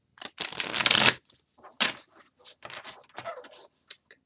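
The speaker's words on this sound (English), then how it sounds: "So let me do some shuffling." Mermaid-themed tarot cards are shuffled by hand in a burst of riffling for about a second, then scattered softer shuffles and single card flicks follow in short, uneven clusters, close and fairly quiet.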